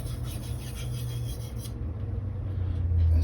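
A 240mm Gyuto knife of Blue Super steel drawn across Naniwa whetstones, making a steady, close, gritty rasping rub that continues without a break.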